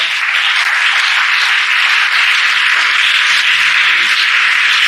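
A congregation at a youth seminar church service applauds the Lord in a loud, dense, sustained roar of clapping, unbroken and without speech.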